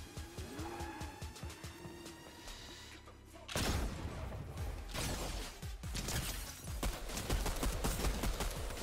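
Rapid bursts of gunfire in the video game Fortnite, loud and close, with vehicle and mechanical game sounds mixed in and faint talking.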